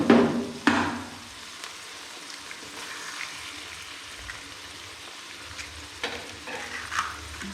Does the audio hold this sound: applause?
no